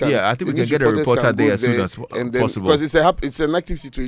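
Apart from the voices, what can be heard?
No distinct noise like a dog, phone or traffic.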